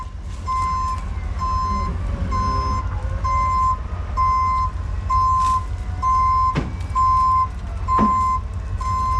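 A portable toilet service truck stuck in sloppy mud idles with a low engine rumble while its reversing alarm beeps steadily in a regular rhythm, with a few sharp clanks.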